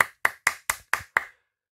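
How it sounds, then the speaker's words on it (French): Six sharp hand claps in a quick, even rhythm, close and clear, a short round of applause from a single person with no talking over it. "ainsi que quelques applaudissements."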